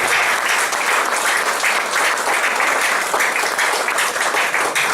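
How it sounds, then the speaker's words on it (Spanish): A church congregation gives a loud, sustained round of applause during a Spanish-language worship service, dense clapping from many hands continuing evenly throughout. "Dale un fuerte aplauso a Jesús."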